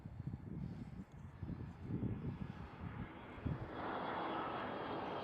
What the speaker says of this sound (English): There we do have EasyJet A320.